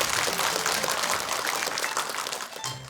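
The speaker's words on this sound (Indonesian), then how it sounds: "Boleh tepuk tangan untuk kita semuanya." Audience applause at an Indonesian Islamic religious gathering, a steady dense patter of many hands clapping for about three seconds and tapering off at the end.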